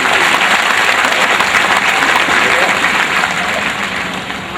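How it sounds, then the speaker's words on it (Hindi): Loud, dense applause from a large audience at a public assembly as a guest stands on stage to be welcomed, sustained throughout and slowly fading toward the end. "जोरदार तालियों से इनका इस्तकबाल"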